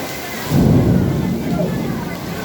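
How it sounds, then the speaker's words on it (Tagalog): Heavy rain pours steadily with a low rumble of thunder swelling near the start, during a downpour where crowds of people are packed together sheltering. "Grabing ulan na yan."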